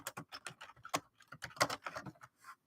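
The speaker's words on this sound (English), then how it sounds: "Here, let me type that in." Rapid keystrokes on a computer keyboard, a close, quick run of sharp clicks and taps with short pauses, typing something into charting software.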